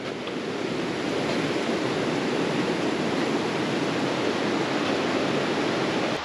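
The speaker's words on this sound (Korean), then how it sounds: "물소리 좋네요 시원하고" Steady, broadband rushing water fills the scene, a constant loud roar like a stream or cascade with no pauses, near a ticket office at Daegwallyeong Samyang Ranch in South Korea.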